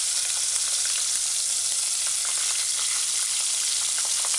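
Fish fillet laid skin side down in hot oil in a pot, a loud continuous hiss and crackle of frying with fine popping spatters throughout, no voices.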